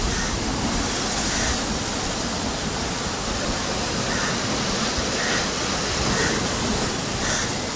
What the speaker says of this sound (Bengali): এখানে একদম সমুদ্র ফুসছে